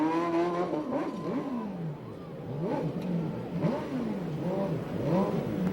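A USAC/CRA sprint car at Perris revs repeatedly while doing donuts, its engine note climbing and falling in quick sweeping bursts, moderately loud and somewhat distant.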